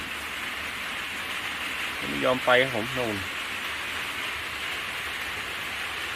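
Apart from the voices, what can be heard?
rain falling on forest hut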